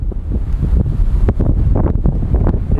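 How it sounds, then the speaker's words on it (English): Strong headwind buffeting a cyclist's microphone on a road near Pelly Crossing, loud continuous rumbling gusts that dominate throughout with no talking. "Oh man, what a windy day."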